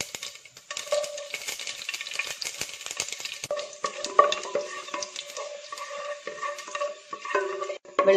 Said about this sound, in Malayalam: കടുക് പൊട്ടി തുടങ്ങുമ്പോൾ വറ്റൽമുളക് ഇട്ട് കൊടുക്കാം.